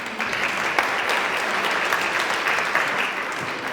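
An audience at a women's celebration event applauds a nominee with a dense, sustained round of clapping from many hands that holds steady for several seconds, loud and close, with no talking over it.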